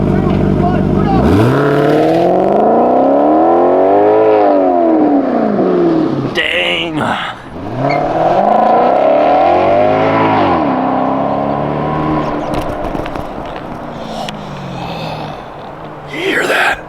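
A Maserati supercar revs hard and accelerates away, its engine pitch sweeping up and down through repeated loud gear pulls, with a brief exclamation from someone nearby.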